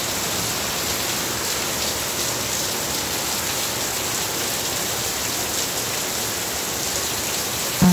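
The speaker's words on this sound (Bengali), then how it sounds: "দেখেন অজোরে বৃষ্টি পড়তেছে।" Heavy afternoon rain pours down in a steady, dense hiss that holds unchanged and close from start to finish, with no voices over it.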